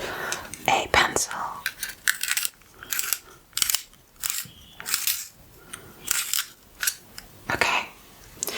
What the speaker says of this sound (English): I will be using a pencil.